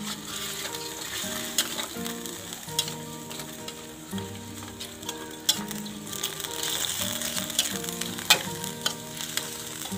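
Food with soy sauce fries in a pan with a steady, moderately loud sizzle, while a spatula scrapes and clinks against the metal now and then and a background tune plays quietly.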